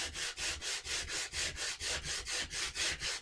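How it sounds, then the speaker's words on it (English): Sandpaper rubs back and forth on a wooden gun stock in steady strokes, about a dozen even, close scratchy passes with a brief gap between each. "so you don't have to sit here for the next 2 days watching me sand the stock."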